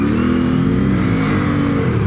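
A CF Moto IBEX 450 fitted with tracks revs steadily as the tracks spin on ice without grip, a continuous engine whine that rises slightly, close and alone.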